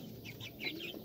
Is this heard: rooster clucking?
yes